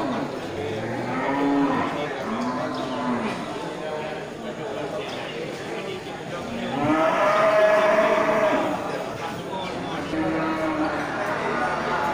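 Fattened local beef cattle moo several times amid a busy barn-like background, low drawn-out calls rising and falling, with a louder stretch partway through.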